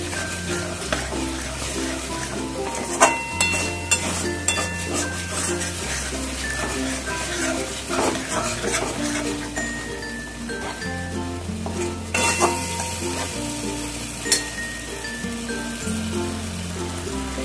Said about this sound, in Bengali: এই পেস্টটা দিয়ে আমি আবার 1 মিনিটের মতন কষে নেব।